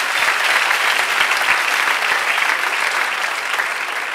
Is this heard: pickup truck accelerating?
no